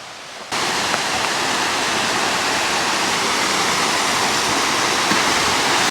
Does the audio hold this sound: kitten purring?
no